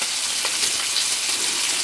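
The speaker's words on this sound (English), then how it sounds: "I'm going to throw my shrimp in" Partially frozen precooked shrimp dropped into a hot pan, giving a bright, continuous sizzle close by with no voices.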